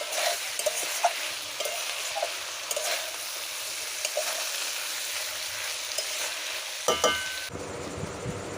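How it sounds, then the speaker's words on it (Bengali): A small river fish curry, cooked down until dry, is stirred in a pan after a spoonful of mustard oil goes in. A steady close sizzle runs under scattered spatula scrapes, then cuts off near the end, leaving a faint clatter. "চুনো মাছের ঝালটা শুকিয়ে এলে এক চামচ সরিষার তেল দিয়ে ভালো করে নেড়ে চেড়ে নামিয়ে নেব"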